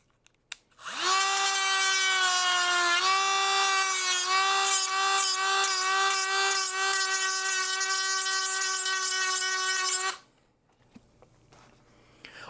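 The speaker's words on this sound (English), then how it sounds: "So back to the Dremel we go." Dremel rotary tool grinding plastic on a Home Depot Skelly skeleton, a loud, high whining drone of about nine seconds with a slight pitch drop early on, starting and stopping abruptly, no talk.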